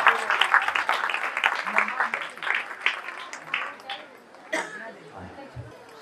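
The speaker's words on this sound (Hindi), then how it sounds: "इनके लिए भरपूर तालियां" Audience at a Christmas evening celebration with widows claps steadily for several seconds, with chatter and voices mixed in before the clapping thins out and fades.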